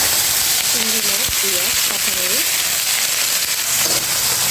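Whole spices, black cumin, radhuni and a bay leaf, frying in hot oil for a pumpkin dish, a steady close sizzle with a few brief squeaky stirring scrapes over it.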